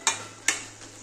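Mutton kosha frying in a pan, stirred with a spoon, giving two sharp scraping clicks over a low steady sizzle, close and fairly quiet.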